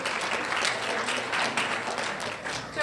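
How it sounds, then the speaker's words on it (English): A crowd at an outdoor dog rescue hoedown gives steady, dense applause that holds at an even level throughout, with voices mixed into the clapping. "let's give Diane a round of applause"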